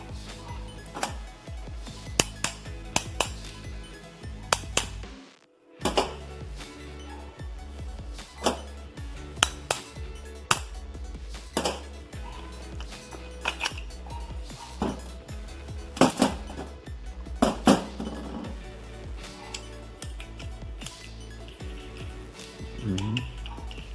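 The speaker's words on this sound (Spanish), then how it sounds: "Sacamos los 4 pernos y desmontamos." Bolts being removed and a TVS King auto-rickshaw starter motor taken apart, heard as scattered metallic clinks, taps and clicks of tools and parts against a low steady hum, with one brief dropout.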